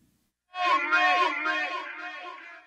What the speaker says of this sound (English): So now the delay itself would sound like this.